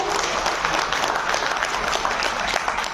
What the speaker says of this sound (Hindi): हमारे सारे सर्जन्स के लिए एक जोरदार से तालियां हो जाए